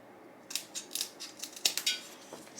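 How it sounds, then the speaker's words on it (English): Old scissors cut the ends off a jumbo craft stick, producing a run of about eight sharp, close snipping crunches in an uneven rhythm, with no talking. "I'm just using an old scissors to cut the ends off"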